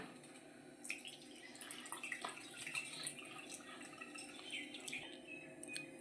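Plain water poured over strained paneer in a cloth while making rasmalai, a steady trickling and splashing with scattered drips throughout, moderately close and fairly quiet.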